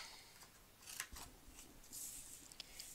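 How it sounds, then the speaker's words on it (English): Scissors snip through a paper piece for a stamping craft, a few quiet, close cuts in a sparse rhythm against a faint background. "cut this piece out."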